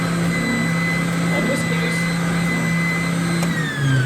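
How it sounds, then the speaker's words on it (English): Stationary spindle sander running steadily with a constant motor whine and hum while wood is sanded against the spinning spindle, loud and continuous throughout. "so I'm going to sand that on this spindle sander. So I turn the machine on"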